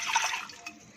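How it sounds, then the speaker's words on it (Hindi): A single cup of water splashing into an empty pressure cooker, a short bright pour that tails off within a second, close and fairly loud with no talk. "1 कप पानी डालूँगी"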